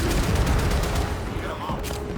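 A dense salvo of gunfire and blasts in the Warframe game, booming and crackling continuously for a couple of seconds, with a voice faintly audible beneath the barrage.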